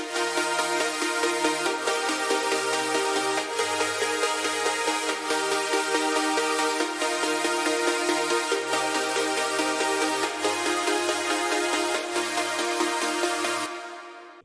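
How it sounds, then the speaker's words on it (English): Layered future bass saw synths, processed with EQ, OTT compression and reverb, sustain bright, dense chords over a low moving bassline, playing steadily and loudly alone until they cut off near the end. "Together the synths now sound like this."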